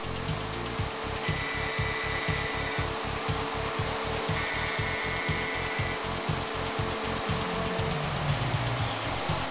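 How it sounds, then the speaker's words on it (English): A Hundegger K2i CNC joinery saw milling an NHT connection into a timber beam, giving a loud, continuous machine whine with a fast, regular low pulsing from the cutter and a faint higher tone that comes and goes. "Another example of the K2's versatility is shown here with the milling of an NHT connection."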